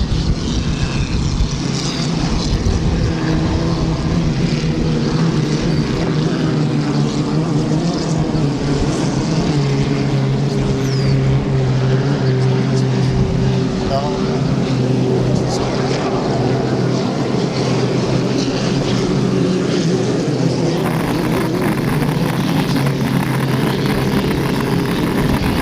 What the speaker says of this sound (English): as these boats approach this turn, they're around 70, 80 miles an hour